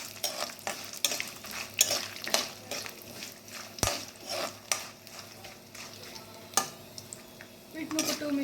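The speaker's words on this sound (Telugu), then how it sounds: "పల్లీలు, వీటిని కూడా బాగా వేయించుకోవాలి." Peanuts stirred and frying in a pan, with green and dry red chillies, for tamarind pulihora; repeated scraping stir strokes and clinks of a utensil over a steady soft sizzle, close and moderately loud, no talking.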